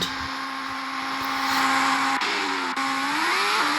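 Formula 1 cars in a racing video game pulling away at a restart after a virtual safety car at the Malaysian Grand Prix, a sustained high engine whine that holds and then bends in pitch as they accelerate.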